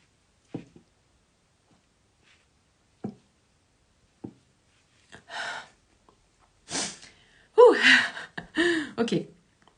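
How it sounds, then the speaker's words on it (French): A woman sneezes indoors, with a few soft sharp intakes and small sounds leading up to a loud sneeze and then a second burst, close to the microphone and with no spoken words. "Je suis encore éternuée, je vous demande pardon."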